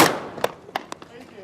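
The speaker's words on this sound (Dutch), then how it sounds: "Het 4 minuten schot, nog 4 minuten voordat we hier echt losgaan" A four-minute warning shot goes off before the start of a skûtsje sailing race at Langweer, a loud opening crack that decays quickly, followed by several sharper, fainter popping reports.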